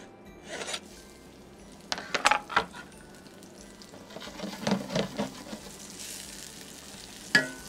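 Shallots hit warm olive oil in a pan and sizzle, with several bursts of crackling fry and scraping stirring over a quiet steady hiss, and no voices.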